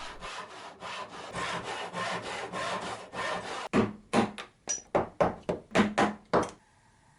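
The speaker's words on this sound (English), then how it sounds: "Then I could saw some waste away on all the pieces." A hand saw cuts waste from full-blind dovetail pieces in wood, first with a run of steady rapid strokes, then about ten slower, distinct rasping strokes close by, each separated by short pauses.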